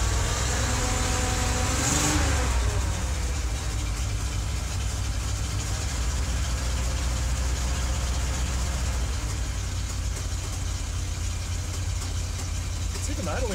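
A 1973 Dodge W200 pickup truck engine idles steadily with a low, even rumble, a brief louder burst near the start, then settles into a constant hum.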